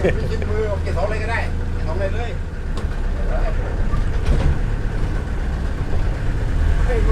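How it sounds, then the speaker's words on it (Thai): A Mitsubishi L300 van's engine hums in a steady, low drone while driving, continuous and fairly loud throughout, with someone talking over it. "ไปแบบนิ่มๆเลย ถือว่าโอเคครับรถคันนี้เครื่องดีมาก"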